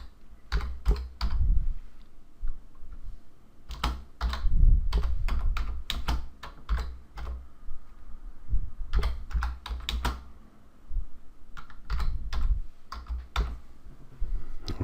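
Close computer keyboard typing in bursts of rapid clacking keystrokes separated by short pauses, loud and alone without speech.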